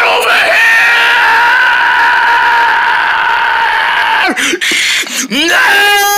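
Loud, sustained screaming from a cartoon character holds for about four seconds in one long wail, then breaks into a few short choppy yelps and cries near the end.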